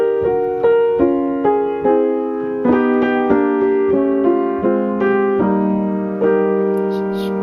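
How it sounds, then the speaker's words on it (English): Solo piano plays a simple melody harmonized in descending parallel thirds, notes struck in a steady, unhurried rhythm with sustained ringing tones, close and clear with no talking. "Now when we add the harmony of descending thirds, it sounds like this."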